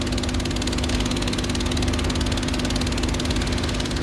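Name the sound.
sand pattering on a membrane vibrating at 20 Hz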